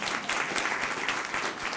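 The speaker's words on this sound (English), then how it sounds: "giving us a round of applause for Sebastian" An audience at an immigration summit applauds, with continuous, fairly soft clapping that holds steady from start to finish.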